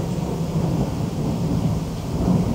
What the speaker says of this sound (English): Raining, and we had some boomers.